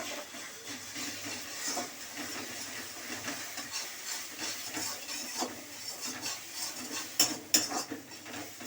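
A cracked egg fries in hot, lightly salted oil in a kadai for an egg and potato bhaji, making a dense, continuous close hiss with occasional sharper spits and utensil scrapes.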